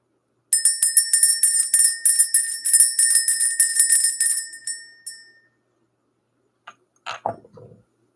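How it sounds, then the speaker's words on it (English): Bell rung in a quick steady series of bright strikes for about five seconds, then left to ring out and fade, followed by a short faint rustle near the end. "Let's ring this bell."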